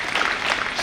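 Applause welcoming Kanubhai Desai at a primary school new building inauguration ceremony, a brief steady burst of many hands clapping close by.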